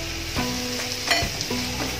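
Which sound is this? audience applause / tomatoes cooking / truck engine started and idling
tomatoes cooking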